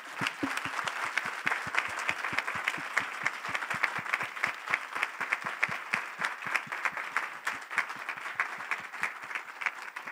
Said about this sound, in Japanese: 皆さんじゃあ盛大な拍手お願いします。